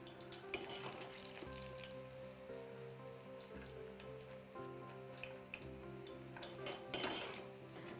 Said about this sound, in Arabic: ورح اقلي باقي الباذنجان للزينه.